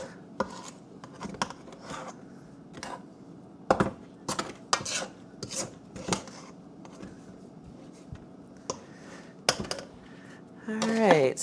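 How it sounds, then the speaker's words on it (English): Cookie dough being stirred by hand in a mixing bowl just taken off a stand mixer, holiday cookies with white chocolate chips to come: repeated scraping and knocking strokes against the bowl, fairly close, with short irregular pauses and a busier clatter at the end. "I took the bowl off the mixer, and we're going to kind of just stir this."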